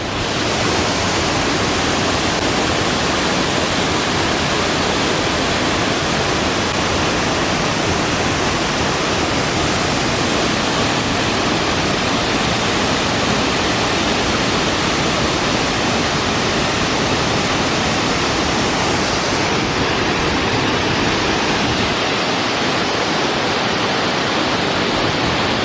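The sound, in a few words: Mantalaga Falls waterfall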